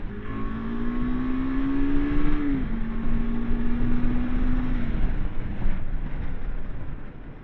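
A 2022 KTM 390 Adventure single-cylinder motorcycle engine revs high and steady while riding, a sustained whine that holds, dips briefly, then eases, with wind rushing past.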